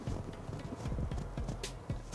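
Hooves of a horse clip-clopping along a street in Montreuil, a steady run of soft, low thuds at walking pace, moderately close, with a sharper knock at the very end.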